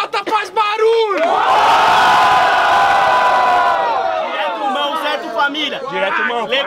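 Loud cheering and shouting bursts from the audience at a student rap battle in its second round, sustained for a few seconds before thinning into chatter, with someone talking just before and after.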